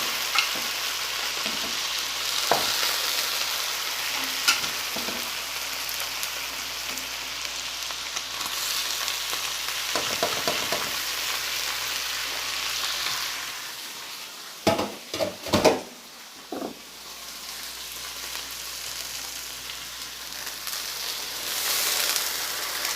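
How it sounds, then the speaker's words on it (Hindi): Boiled mutton sizzles and fries in a pot with browned onions, a steady close hiss with occasional stirring clatter and scraping in the middle. No one speaks. "चूँकि प्याज हमारी ब्राउन हो चुकी है तो अब मैं इसमें बॉयल मीट जो है वो डाल दूँगी।"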